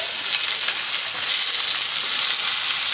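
Garlic paste goes into chilies frying in a pan during beach-side van cooking, giving a steady bright hiss of sizzling oil close by with no talk.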